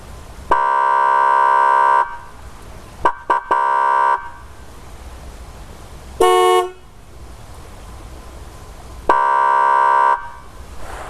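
Electric airhorn fitted to a 1991 GMC Sonoma ST, sounding from about 3 meters away: several loud sustained blasts, two long and one shorter, with brief stabs between, plus one short higher-pitched stock horn toot.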